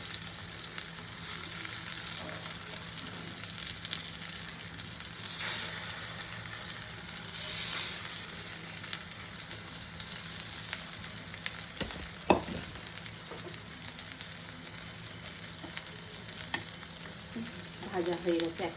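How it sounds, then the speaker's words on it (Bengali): Slices of teasel gourd (kakrol) fry in a small amount of oil, giving a steady, close crackling sizzle throughout with occasional clicks and stirring scrapes, no talking. "দেখুন এই তেলেই ভাজা হয়ে যাবে।"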